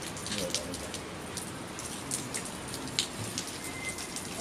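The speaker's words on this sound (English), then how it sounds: "it started raining" Rain falls steadily, a dense even patter with scattered brighter drops landing nearby, continuous and moderately loud with no voices.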